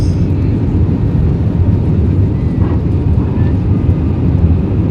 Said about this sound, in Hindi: हमारे जहाज़ टेक ऑफ कर चुके हैं